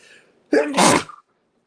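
A woman sneezes once, loud and close, in an allergic fit during a relaxed after-gardening chat; a soft vocal onset leads into the burst, which trails off into brief breathy noise before falling silent.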